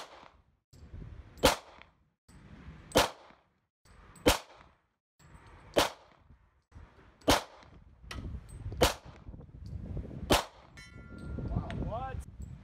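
Repeated gunshots at an outdoor shooting range firing steel-case ammunition, eight sharp cracks spaced about every one and a half seconds, each with a brief ringing tail, the last followed by a faint metallic ring.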